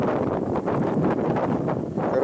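Strong wind buffeting a microphone outdoors beside a river, a loud continuous low roar with gusty surges and no speech.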